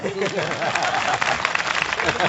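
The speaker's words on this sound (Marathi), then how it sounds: "एकदा जोरदार टाळ्या वाजवा" Audience applause at a temple chariot festival gathering in honour of a visiting religious leader, a loud, dense patter of many clapping hands that holds steady for the whole stretch, with voices mixed in.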